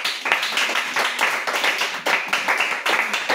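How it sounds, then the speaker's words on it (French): A church congregation claps together during a worship service, steady dense rhythmic clapping that carries through the whole stretch at moderate loudness, with faint voices underneath. "On acclame le Seigneur Jésus."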